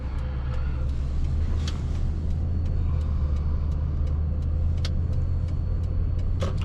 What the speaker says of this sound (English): Man, this mail truck's really struggling for traction there.